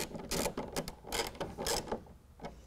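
A 1/2 inch socket ratchet tightening a serrated flange nut on a Toyota Tacoma tonneau cover bracket, several close bursts of rapid ratcheting clicks with short pauses between strokes.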